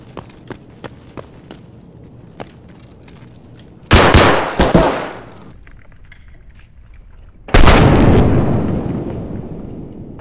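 Two loud SKS rifle shots in the shooter game Escape From Tarkov, each a sharp crack with a ringing tail, spaced a few seconds apart over faint background game ambience.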